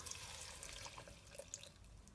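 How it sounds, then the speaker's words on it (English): Water poured into a spicy jerk chicken wing sauce of vinegar, soy sauce, sugar and pimento seed, a soft steady trickle with faint drips, quiet and close. "I'm gonna add some water just to loosen it up."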